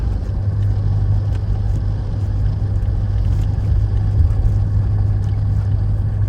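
1984 GMC Suburban K2500 with a 6.5 liter Detroit diesel driving, a steady low engine drone and road rumble heard from inside the cab, continuous and fairly loud.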